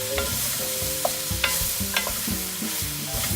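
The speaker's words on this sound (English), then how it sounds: "In with the mushrooms. Give it a good stir." Mushrooms and garlic fry in a pan for chicken and wild mushroom risotto, with a strong, steady sizzle and clattering scrapes and knocks of the spoon as they are stirred up close.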